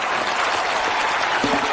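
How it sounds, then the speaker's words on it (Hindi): Studio audience applauding for cricketer Sachin Tendulkar on the comedy talk show Comedy Nights with Kapil, a dense steady wash of clapping filling the short clip, with a brief voice rising near the end. "सचिन सर के लिए एक बार ताली हो जाए।"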